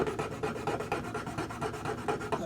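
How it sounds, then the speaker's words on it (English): A lamp base rubbed back and forth on a metal file to remove material so a modern bulb fits a vintage four-way flasher light strand, a steady rhythmic rasping of about a dozen close strokes, no talk. "rub that on the file and remove some of the material where a modern bulb will fit"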